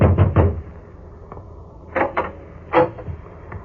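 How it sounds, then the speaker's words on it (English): Knocks on a door come in two short clusters: a quick group of three, then after a pause a few more raps, close and moderately loud with no voices. "I knocked at the door."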